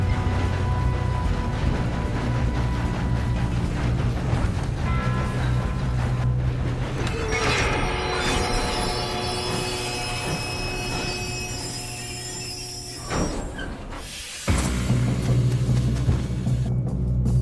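A train in the Red Dead Redemption 2 video game rumbles along its rails with a loud, continuous mechanical clatter and metallic ringing. The noise cuts out briefly near the end, then resumes.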